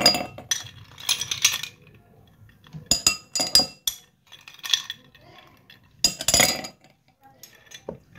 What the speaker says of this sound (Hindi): हम अपने ग्लास में आइस को ऐड करेंगे।